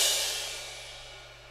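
Crash cymbal sample from a sound pack hit once, a single shimmering wash that slowly fades out over a low steady hum.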